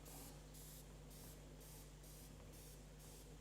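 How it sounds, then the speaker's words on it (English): Room spray is sprayed into a visible laser beam in a lecture room, making a rapid series of sharp hissing bursts. About eight short puffs come in a steady rhythm, faint and close, over a constant low electrical hum. "this is a room spray actually, lovely flavor"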